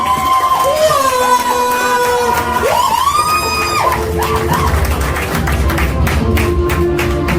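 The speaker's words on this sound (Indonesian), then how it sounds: "Tepuk tangan yang sangat meriah untuk Bu Rini" A presentation audience cheers and claps for Bu Rini, crowd noise with whoops and shouts layered over tonal sliding sounds, then denser clapping toward the end, loud and close.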